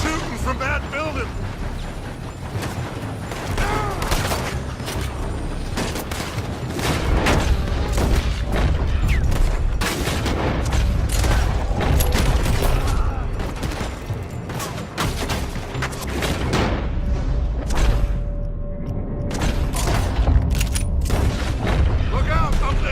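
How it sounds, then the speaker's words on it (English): Gunfire pours from a building in Red Dead Redemption 2: dense, loud volleys of overlapping shots and booms ring out continuously, with voices mixed into the chaos. "They're shooting from that building!"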